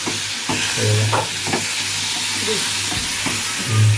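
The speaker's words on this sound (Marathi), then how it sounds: "मस्त मुशी फ्राय करून घेऊ तेलामध्ये" Pieces of mushi (shark) fish frying in hot oil give a steady close sizzle with a few soft stirring clatters, and no one speaks.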